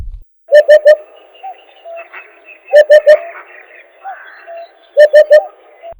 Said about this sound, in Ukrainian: Одуд птах із характерним, добре впізнаваним голосом. Ось послухайте його.